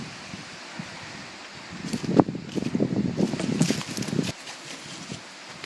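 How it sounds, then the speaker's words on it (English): Blustery wind gusting outdoors on a wooded forest trail, a rushing rumble that swells and buffets the microphone for a few seconds in the middle, then drops back to a quieter breezy background. "it's a bit blustery out here today."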